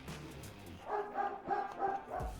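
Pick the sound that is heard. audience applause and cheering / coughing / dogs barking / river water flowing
dogs barking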